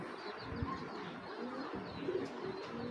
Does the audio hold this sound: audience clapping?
no